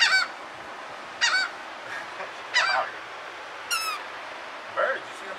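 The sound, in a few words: birds calling at the beach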